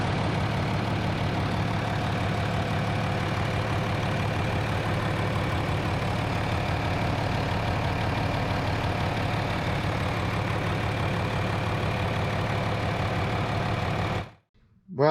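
A John Deere 4230 tractor diesel engine idles steadily on a test run after injector return boot repairs, a close, even, continuous rumble that cuts off abruptly near the end.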